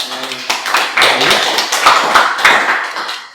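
During a university teaching session, a few sharp claps ring out in quick succession, mingled with the lecturer's nearby voice.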